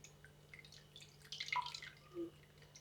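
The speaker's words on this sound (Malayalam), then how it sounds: "ഇനി ഇത് ഈ ഒരു ബൗളിലേക്ക് അരിച്ചൊഴിക്കാം." Boiled and cooled butterfly pea flower water is strained into a bowl, making faint, scattered drips and small trickles, with a brief louder splash near the end over a low steady hum.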